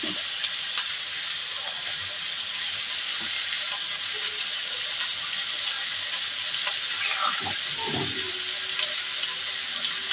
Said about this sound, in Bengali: এবার দিয়ে দেবো একটুখানি পরিমাণ মতন জল